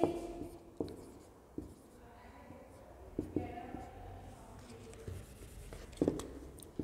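A pen or pencil writing words by hand on paper during a Hindi lesson, giving faint scratchy strokes and soft taps with pauses between them, very quiet and close.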